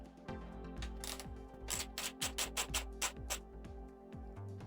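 A ratchet wrench with an 8mm socket tightens a side cover bolt on a Kawasaki KLX 150 BF motorcycle, a quick run of close, crisp clicking strokes speeding up and then stopping.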